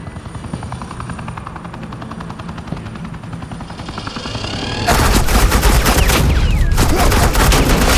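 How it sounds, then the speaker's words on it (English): Suppressing gunfire in the video game Batman The Enemy Within, loud rapid automatic bursts over a helicopter's rotor thrum that swell into a dense, continuous barrage near the end, with no speech. "This is Agent Quinn, suppressing fire."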